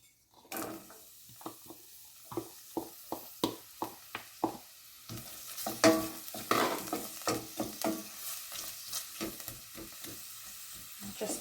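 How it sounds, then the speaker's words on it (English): Onions gently frying in a pot for minestrone soup, a soft continuous sizzle broken by a run of sharp, evenly spaced scraping taps from stirring, then a denser, louder stretch of stirring and clatter. "Just let that gently fry for a little while."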